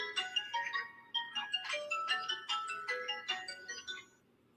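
A mobile phone ringtone plays a quick, bright melodic pattern of repeated chiming notes at moderate distance, then fades out.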